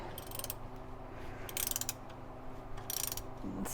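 Ratchet tightening the final bolts on a Chevrolet C3 Corvette starter motor, with two close bursts of fast clicking strokes over a steady low hum.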